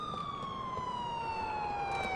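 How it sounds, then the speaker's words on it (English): An ambulance siren in the video game GTA IV wails in a single slowly falling tone, faint and distant, with no voices. "What is that, an ambulance?"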